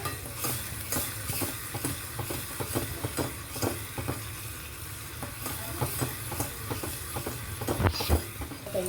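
Spoon stirring rajma in a pot as it bubbles up, steady scraping and simmering with soft rhythmic knocks against the pot, close and continuous with no talking.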